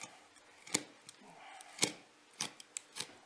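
Knife slicing deer hide tight around the eye during caping, a few sharp, quiet cuts and snips spaced irregularly with soft handling noise between.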